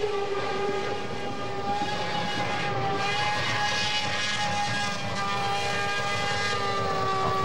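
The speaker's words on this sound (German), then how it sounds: "Hier wird hohe Drehzahl beim Tanken und langsames Wegfahren." Sustained high-revving engine drone from a 1994 Formula 1 car held at high rpm during a refuelling pit stop at Silverstone, steady and loud with faint whining tones and no talking.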